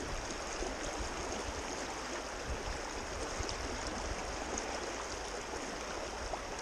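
White water rushes through Penns Creek, a steady, close, broadband roar of churning current that holds unchanged throughout with no voices.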